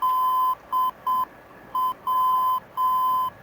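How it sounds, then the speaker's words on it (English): Morse code identifier of a VOR navigation station on 117.7, heard through the NAV 1 radio in an aircraft cockpit: a steady electronic tone keyed into short and long pulses, clear and alone. "we press nav 1, we hear the Morse code."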